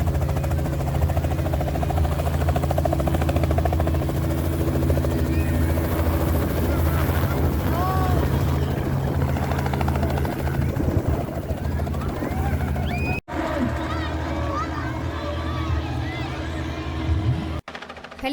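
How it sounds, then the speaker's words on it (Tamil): A helicopter at an Easter egg hunt flies overhead while dropping eggs, its steady rotor drone loud and continuous throughout. Crowd noise and voices sit underneath, with brief sharp cuts near the end. "மறுபடியும் ஹெலிகாப்டர் மேலே போயிட்டு இப்போது எக்கு ட்ராப் பண்ணிகிட்ருக்காங்க."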